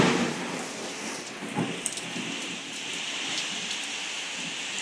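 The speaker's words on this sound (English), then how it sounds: "It's raining from the inside of my house." Rainwater leaking and dripping inside a house during a thunderstorm, a steady broadband patter of falling water with a few sharper drip hits, fairly close and continuous, with no talking.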